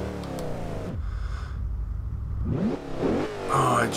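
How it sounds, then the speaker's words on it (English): A 2005 Mercedes-Benz SLR engine from Forza Horizon 2 rises in a rev, then drops to a low, rumbling idle, then climbs again in sharp, loud revs near the end. "I just love the sound of that engine"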